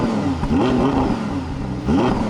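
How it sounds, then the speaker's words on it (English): A 2023 Audi R8 GT's V10 engine revs hard twice through its exhaust, the pitch climbing and dropping with a raspy, close roar. "take a listen to the exhaust revving as high as Audi lets me"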